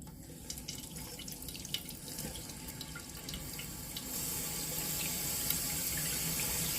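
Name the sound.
water running into a toilet tank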